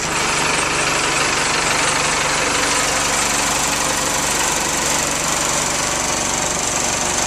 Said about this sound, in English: And that's what it sounds like. It sounds like a diesel.